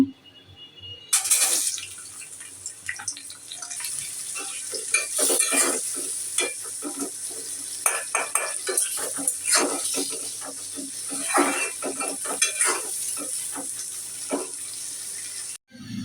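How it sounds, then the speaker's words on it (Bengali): Onion, garlic, coriander leaves and green chilli fry in hot oil in a wok, giving a steady, close sizzle broken by frequent scraping stirs for the whole stretch. No voices, just the sizzle fading at the very end. "ভর্তার পেঁয়াজ, রসুন, ধনিয়ার পাতা, কাঁচামরিচ সবটি ভাজা আমার হয়ে গেছে বন্ধুরা।"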